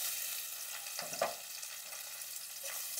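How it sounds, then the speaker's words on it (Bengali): Cashews, garlic, ginger, onion and tomato sizzle in oil in a pan, a soft steady hiss with a couple of faint scraping stirs, quiet and close, no talking. "এগুলো একটু ভালো করে ভেজে নেব"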